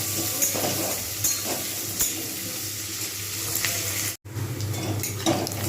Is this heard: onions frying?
yes